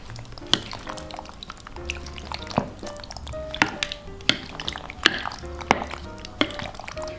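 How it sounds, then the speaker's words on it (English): Baked ziti ingredients with garlic confit being stirred together, giving wet, sticky squelches and soft clinks in an irregular rhythm, close and moderately loud. "Now we're gonna mix it up."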